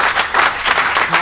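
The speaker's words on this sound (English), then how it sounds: "Let's clap for Jesus." A church congregation at a men's convention claps their hands, dense rhythmic applause filling the large room loudly for the brief moment.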